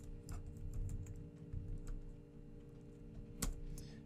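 Keys on a computer keyboard clatter in quick, irregular taps at close range, with a sharper keystroke near the end, all quiet and without speech.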